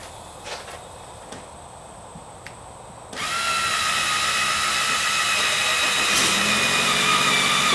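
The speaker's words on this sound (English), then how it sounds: "By pre-drilling a small hole, these screws will go in much easier." A power drill pre-drills a small pilot hole for screws while a door seal weatherstrip is replaced, a few quiet clicks first, then a loud, steady whining drill motor that holds close and constant to the end.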